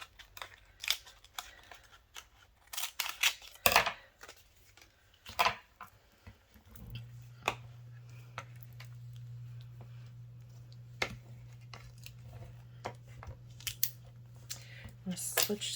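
Scissors snip through a vinyl decal sheet with transfer tape applied, a series of crisp close cuts in short bursts, followed by a steady low hum in the background.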